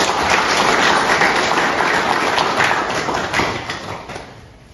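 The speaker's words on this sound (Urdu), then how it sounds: "ایک دفعہ ان کے لیے زوردار تالیاں بجائی جائیں" An audience at a book appreciation ceremony applauds the author with a dense, steady wash of clapping that holds for several seconds before slowly fading.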